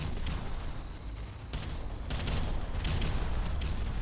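An artillery barrage in the video game Ground Control, with a continuous rumbling roar of distant blasts and sharper cracks and booms that stand out in several bursts over a heavy low background.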